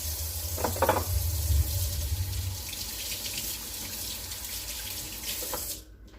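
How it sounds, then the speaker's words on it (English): Tap water running steadily into a kitchen sink as hands are washed during frosting prep, a loud, even rush with brief splashy changes near the start, cutting off abruptly at the end. "Let me wash my hands."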